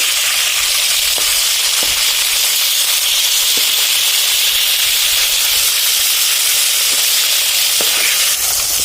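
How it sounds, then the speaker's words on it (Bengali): Fish pieces are turned over in a wok of hot frying oil. A loud, continuous hissing sizzle runs throughout, broken by a few light clicks as the pieces are flipped, with no talking. "তো মাছগুলো আমরা উল্টে দিচ্ছি।"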